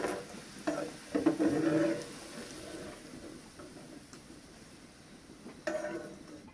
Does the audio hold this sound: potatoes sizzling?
yes